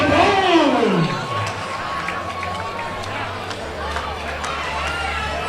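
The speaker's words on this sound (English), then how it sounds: "Loud crowd for April Lionheart Dubois." At a women's wrestling event, an arena crowd roars and cheers in a loud swell that fades to a steady background hubbub, with voices in it.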